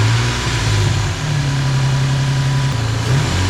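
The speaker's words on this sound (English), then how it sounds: "now we're going to go ahead and start it and give it a couple revs and see how it sounds" Infiniti G35 engine fitted with a new aftermarket air intake, running loud and close with a steady low idle drone and slight rises in pitch from light revs, no talking.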